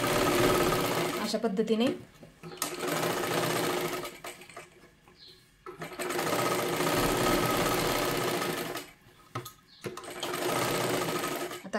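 Sewing machine stitching the lining side of a size-36 katori blouse in long, steady bursts, close and loud, with short pauses between runs and someone speaking briefly in a gap.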